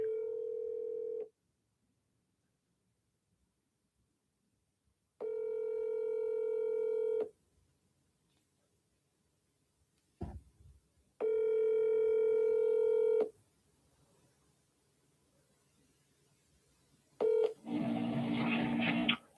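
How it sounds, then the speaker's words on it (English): A telephone line repeatedly emits a steady dial tone in separate bursts with silent gaps between them, and a short clicking sound near the middle. A burst of broadband noise, like a line connecting, comes at the very end. "I tried to call her, man. She didn't pick up the phone."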